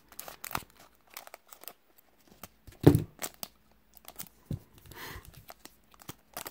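Scissors snip and crinkle through foil trading card packs, a Dragon Ball Super card game special pack, in sparse, close, crisp bursts separated by quiet gaps.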